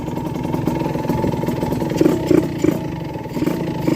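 A Yamaha LS125 motorcycle from 2014, still on its stock lower engine, runs loud and close, its engine note rising and falling through revs with brief surges and a rough attempt to shift into fifth gear that does not engage.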